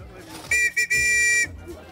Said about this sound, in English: What are they, whistles?